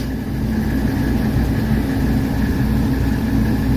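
A 1985 Mercedes 300TD diesel idles steadily and loudly up close, a continuous low clattering drone with no pauses or voices.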